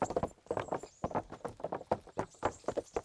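Hooves clip-clop in a quick steady rhythm as a horse is ridden in the medieval video game Kingdom Come: Deliverance, fairly quiet and close, with no voices over it.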